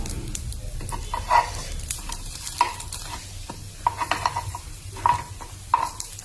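Sorghum flour batter sizzles in an appe pan while a utensil stirs and scrapes, with soft metallic clinks and scrapes recurring every second or so over a steady frying hiss, close and moderately loud.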